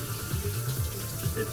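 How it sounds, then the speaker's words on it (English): Cold running tap water splashes steadily into a sink, a continuous close-up gush with small shifts as the stream hits noodles being drained and rinsed below. "Draining and rinsing with the cold"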